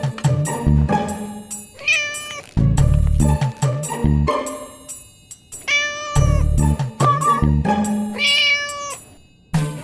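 A cat meowing loudly and close, in repeated drawn-out rising and falling cries, one after another with brief pauses, on its own without talk.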